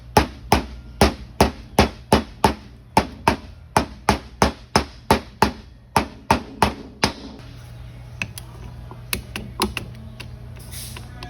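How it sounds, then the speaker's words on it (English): Steady, forceful hammer blows drive a seal into a Toyota RAV4 transmission pump in a quick even metallic rhythm, then slow to a few scattered taps. "Don't hammer seals in."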